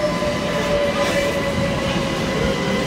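A Swiss train near Grindelwald runs with a steady, loud rumble and rolling wheel noise, with a faint tonal whine running through it.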